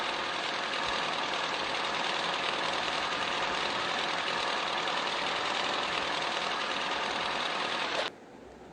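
A power boat engine in the Roblox video game drones steadily at high volume for several seconds, then cuts off abruptly near the end, leaving a quieter hum.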